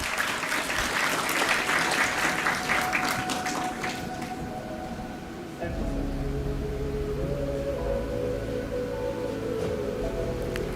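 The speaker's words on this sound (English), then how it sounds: "Let's give a round of applause." Audience clapping fills a summit hall for about five seconds and then fades, leaving a steady low room hum and a faint tonal murmur in the background.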